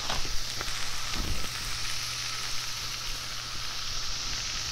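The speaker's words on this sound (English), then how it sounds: "You can hear them sizzling and popping." Chicken wings sizzling on a Blackstone griddle, a steady bright hiss of frying with scattered pops and crackles, close and continuous.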